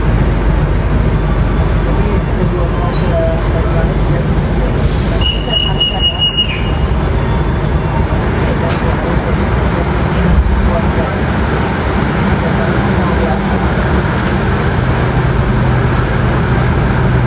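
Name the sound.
Wijayakusuma train stopped at Madiun station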